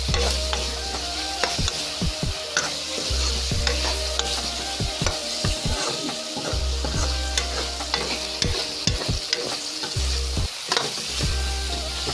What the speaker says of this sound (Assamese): মাংসখিনি লৰাই দিওঁ।